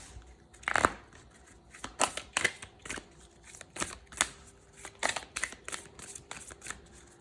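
Tarot cards being shuffled for a seven-card spread, a run of crisp riffling bursts and soft slaps repeating every half second or so, close and fairly quiet, with no talking.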